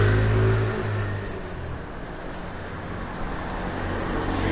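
Steady roadway noise fills a night street in Kaohsiung, Taiwan, with cars rolling past close by and engines swelling and fading under continuous traffic hum, heard from a cycling rider's position.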